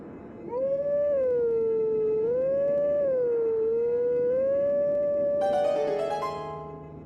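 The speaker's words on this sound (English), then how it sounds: "I ain't a fan of howling classic Zelda songs." Wolf Link in a 3D Zelda game holds a long, wavering howl that bends up and down like a tune, loud and alone, with a chime-like accent near the end.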